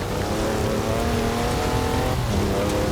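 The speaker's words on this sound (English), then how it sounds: "That's a four-wheel drive car on mud tyres completely sideways." Four-wheel-drive car on mud tyres sliding sideways in a drift in Forza Horizon 4, its engine roaring loud and steady with tyre noise throughout, no voices.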